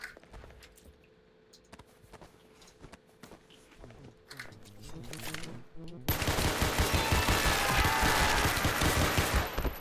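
Rapid automatic gunfire erupts loud and dense in Space Station 14 during a mass shooting in a kitchen, a sustained burst of crackling shots filling the final few seconds after quieter footsteps and game noise.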